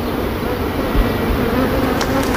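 Honey bees swarm around hives of chestnut honey in a steady, close, dense buzzing that fills the whole moment without a break.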